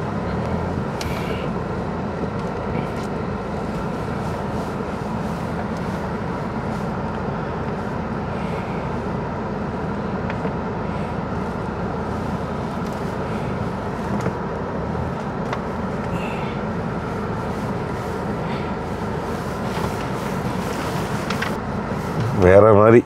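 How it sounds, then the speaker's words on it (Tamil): A Toyota Hilux 4x4 climbing an off-road slope, a steady loud engine drone that holds evenly throughout and rises slightly at the end, with a voice talking over it. "ஏற்றி காமிக்கிறேன் பாருங்க, அப்படி ஏறு மேலே வண்டி."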